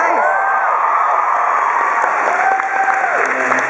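Dense crowd at a Seattle Sounders football match roaring and applauding continuously, a loud wall of cheering with whistles and whoops rising over it.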